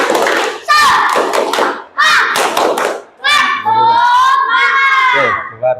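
Children join in a rhythmic clapping chant in a classroom, bursts of claps and group voices alternating in short patterned phrases, loud and close.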